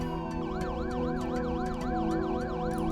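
A police car siren in the video game Russian Car Driver wails in a fast, steady up-and-down cycle over a constant engine drone, loud and close, with no talking.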